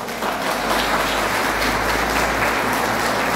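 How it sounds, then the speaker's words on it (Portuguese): Audience applause fills a church hall at a youth charity collection event, a dense steady wash of clapping with a low hum underneath and no voices standing out. "vocês deem uma salva de palmas para eles"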